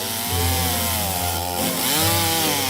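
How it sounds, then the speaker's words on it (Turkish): A cartoon motorized saw buzzes steadily at close range, its engine pitch dipping and rising as it bites through a wooden tree branch. "Makaslı asansör bir testere getirdi."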